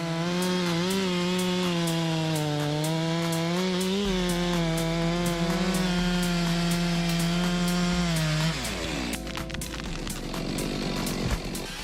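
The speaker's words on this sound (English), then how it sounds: "With a sharp saw blade, the man operated the MS 462 chainsaw engine accurately and effectively." A Stihl MS 462 chainsaw with a sharp chain cuts through wood, its engine whining at high revs with wavering pitch, then bogging down and rattling as the cut finishes. Loud and close, with no talking.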